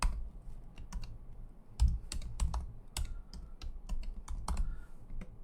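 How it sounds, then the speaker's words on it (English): Someone types code on a computer keyboard, an irregular run of close, crisp key clicks and thumps over quiet background, with no talk. "So we type it again"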